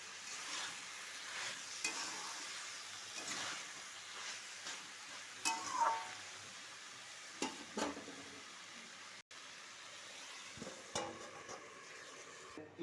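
Mixed vegetable curry with cucumber being stirred in a pan after sugar goes in, quiet frying sizzle with intermittent spoon scrapes and knocks against the pot over several seconds.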